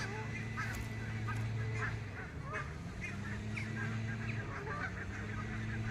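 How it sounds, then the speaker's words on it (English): Geese flocking together ahead of migration give repeated honks, some nearer and louder, over a constant low drone near the water's edge. "I think they're starting to prepare for migrating as well, these geese."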